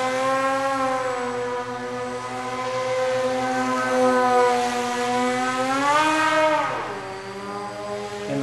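Remote-control F-117 model jet flying just under half throttle, a steady buzzing electric whine with rising and falling pitch as it passes, fairly loud and continuous.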